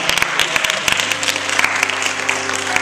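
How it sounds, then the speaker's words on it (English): Church congregation clapping in praise at Faith Cathedral, loud overlapping hand claps with sharp individual strikes over a sustained organ or keyboard chord, a few voices faintly present. "Come on and give God a hand clap of praise."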